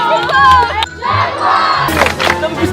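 A large crowd shouts and cheers loudly at a lively group event, with bursts of yelling and a swelling roar of many voices close by.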